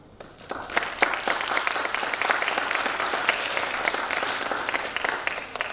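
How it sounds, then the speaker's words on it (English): Dense, loud audience applause for parents at a middle school Greek Gods festival, steady sustained clapping from a large crowd for nearly six seconds with little talk. "I want to give a big round of applause to the parents"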